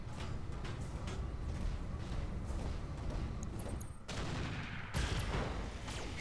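Weapons fire and explosions in the Roguetech mech video game: dense, continuous barrages of gunfire and booms roll on throughout, loud and busy, with a brief dip before the bursts pick up again.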